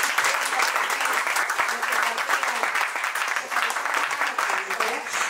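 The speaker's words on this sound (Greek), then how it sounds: "Να της δώσουμε ένα θερμό χειροκρότημα." Warm audience applause at a Silver Alert memorial event, steady dense clapping throughout with voices murmuring underneath.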